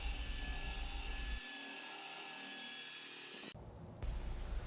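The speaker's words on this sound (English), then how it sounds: "once all of those were cut, I had to sand them all smooth so they paint a lot easier." A power sander smoothing cut 3x3 cedar wood legs, giving a steady close abrasive whir that changes tone partway through, with no voices.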